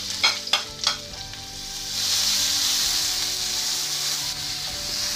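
Garlic sizzling in oil, then onion added: a few clanks of a spatula against the pan, followed by a steady, loud hiss of frying that carries through to the end.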